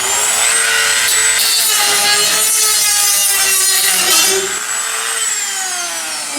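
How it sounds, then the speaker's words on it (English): A Dremel rotary tool grinds rough edges off a cut exhaust pipe on a 1953 Chevy rat rod, a loud close high-pitched whine with scraping grit that dips in pitch under load and eases toward the end. "we're just going to take the Dremel and get rid of some of them rough edges"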